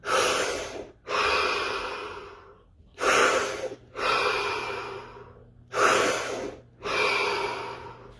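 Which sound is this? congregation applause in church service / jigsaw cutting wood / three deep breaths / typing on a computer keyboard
three deep breaths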